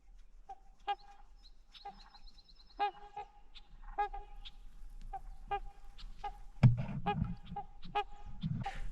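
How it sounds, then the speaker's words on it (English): Swan calling on a wilderness lake in the Boundary Waters while a small black bird attacks it, repeated honking calls in short bursts at moderate distance, with low rumbling noise joining in the second half. "I don't know if you can see that swan getting attacked by that little black bird."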